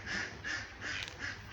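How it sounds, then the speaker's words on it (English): Ducks quack in a graveyard, about four rhythmic, nasal calls in a regular pattern at moderate distance, with no voices over them. "you do get the ducks over there, and there's tons of them, literally tons of them"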